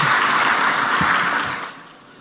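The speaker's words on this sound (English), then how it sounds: "let's give him a round of applause" Audience applause at an African heads-of-state energy summit in Tanzania, a broad wash of clapping that holds steady before thinning and fading away near the end.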